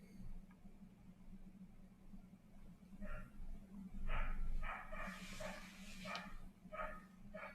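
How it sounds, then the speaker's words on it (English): A dog barks in the background in short bursts, moderately distant and faint, over a steady low hum in a quiet room. "I apologize for the dog in the background."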